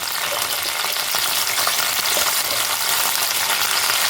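Whole kanthari chillies dropped into sesame oil in a pan, giving a loud, dense, hissing sizzle that holds steady from start to finish with no pauses or voices.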